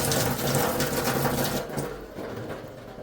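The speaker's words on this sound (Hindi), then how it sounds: "पानी भी आई है तो बोतलें भरते हैं" Water runs from a tap into bottles being filled at home, a steady rushing splash that softens slightly partway through, with no talking.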